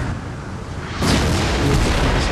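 Napoleon: Total War land battle with artillery cannons opening fire, a sudden loud boom after a quieter lead-in that settles into a sustained roar of gunfire.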